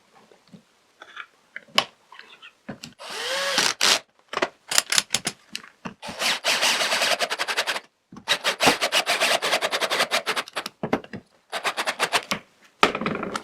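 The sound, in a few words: screws being driven into plywood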